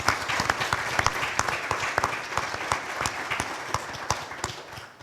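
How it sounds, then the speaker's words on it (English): A crowd at a convention centre AGM gives a round of applause: many close, sharp claps blend into a lively, continuous ovation that thins slightly toward the end. "so let's give them a round of applause."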